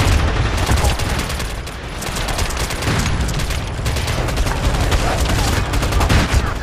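Gunfire in a first-person shooter video game: dense, continuous volleys of loud rapid shots and booms with no pause, with a voice talking now and then underneath.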